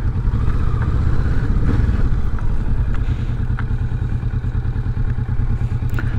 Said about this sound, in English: I'll let you guys have a better listen at this stock exhaust